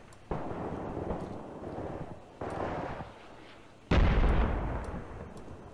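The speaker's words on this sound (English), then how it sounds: "My mortar strike should be coming there now." Mortar rounds landing in the war game Graviteam Tactics, three heavy booming impacts spaced over a few seconds, each a sharp blast trailing into a rumbling decay, the last one loudest and nearest, with no talking.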